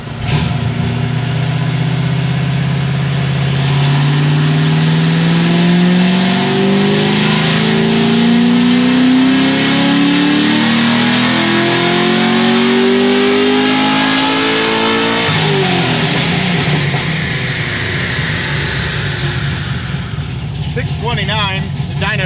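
Chevrolet LS7 V8 engine revving on a dyno, loud rising pull climbing smoothly through the revs for about fifteen seconds, then dropping back and burbling near idle.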